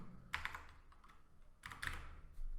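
Typing on a computer keyboard in two short bursts of quick, light key clicks separated by a pause, close and fairly quiet, with no talking.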